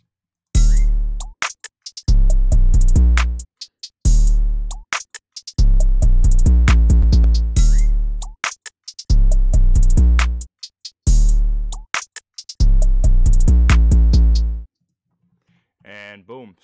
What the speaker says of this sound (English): all together the drums sound like this